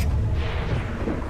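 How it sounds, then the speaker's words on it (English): A smoke grenade is deployed in the video game XCOM 2, producing a loud, muffled boom with a deep rumbling body that trails off over about a second. "I'm gonna rapid deploy a smoke grenade"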